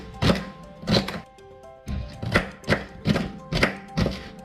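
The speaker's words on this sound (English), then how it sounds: "with your celery, make sure you've washed it and cut it. Again, into small pieces." A knife chops celery into small pieces on a board, about eight close, solid thunks falling in short irregular groups with a short gap in the middle; no talking.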